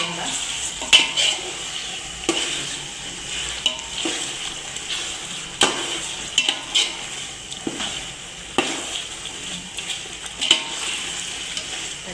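A spoon scrapes and stirs ingredients in a pot for chicken dum biryani over a low sizzle, with periodic soft clanks of utensil against metal every couple of seconds and faint background voice.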